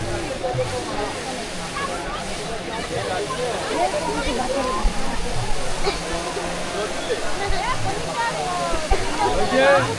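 Water pours and splashes in sunlight at the Mayapur ISKCON temple during the Holi Dol Yatra festival, a continuous hissing rush heard at moderate loudness with voices of a crowd mixed in.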